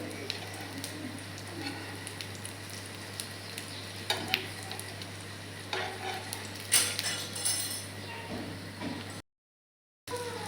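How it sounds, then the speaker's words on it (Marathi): Bread coated in besan batter roasting in a pan, a steady gentle sizzle under a low hum with a few scraping clinks before it cuts to brief silence. "व्यवस्थित शेकून घेऊ आपण एक बाजू."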